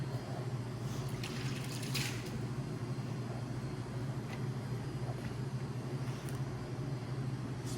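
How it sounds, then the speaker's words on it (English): A tap runs steadily while hands are washed during deer skinning in a butcher's space, a constant close splashing stream over a low hum, with no talk. "Wash my hands again."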